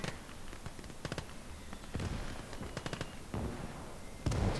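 Mortar fire in the Gates of Hell WWII strategy game, sharp separate thumps and crackling blasts at irregular intervals with a steady noisy background.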